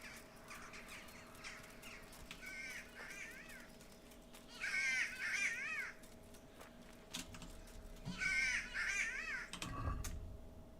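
Crows caw in Kingdom Come: Deliverance, three clear bursts of harsh, repeated calls spaced a few seconds apart over a low steady ambient hum, ending with a dull thump.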